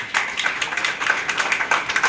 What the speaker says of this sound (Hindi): थोड़ी तालियां बजा सकते हैं आप सभी।